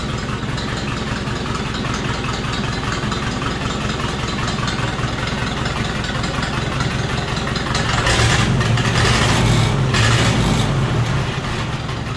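A Ford 860 tractor engine idles steadily and loud up close with a slight miss, its rough, uneven chugging continuing throughout and swelling a little louder near the end.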